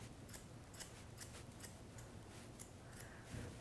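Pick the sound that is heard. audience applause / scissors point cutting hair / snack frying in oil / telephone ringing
scissors point cutting hair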